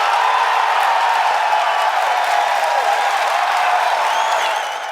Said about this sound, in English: that is the kind of unbridled crowd reaction that every tech executive dreams about